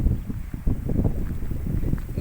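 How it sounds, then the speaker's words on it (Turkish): Gusts of wind buffet the microphone with low, uneven rumbling bursts that come and go in quick succession. "Bugün hava da çok rüzgarlı."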